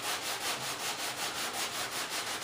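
Near the corners of a thin flexible panel, a sanding block rubs in quick, even back-and-forth strokes, a soft rhythmic scratching heard close but faint.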